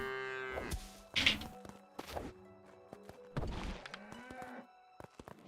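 A cow in the video game Craftopia gives a few short, low moos among scattered thumps and clicks of game sounds, quiet and fairly close, with no talk over it.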